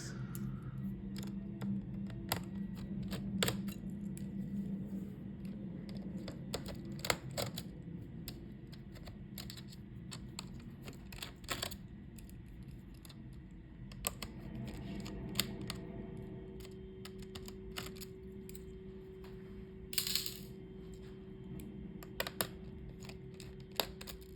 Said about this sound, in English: Let's take out these screws.